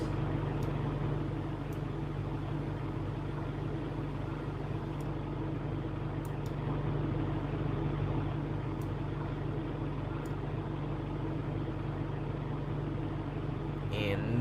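Boeing 777 engine 2 spooling up at start in the X-Plane 11 flight simulator, a steady low droning hum that holds evenly throughout, with faint clicks over it.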